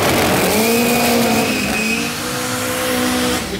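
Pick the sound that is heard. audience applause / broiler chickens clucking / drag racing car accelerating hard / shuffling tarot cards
drag racing car accelerating hard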